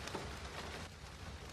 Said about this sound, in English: The next morning, the rain poured down.